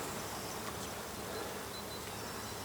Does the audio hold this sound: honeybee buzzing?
yes